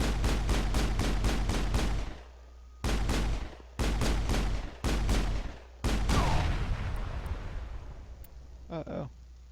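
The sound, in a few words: gunfire in the video game Mass Effect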